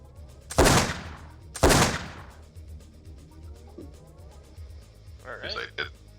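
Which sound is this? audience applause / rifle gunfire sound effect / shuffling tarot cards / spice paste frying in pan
rifle gunfire sound effect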